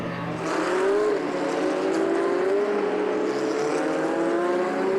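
A GT Cup race car passes on the Donington GP circuit, its loud engine note rising and holding as it goes by, with a second engine whine layered under it.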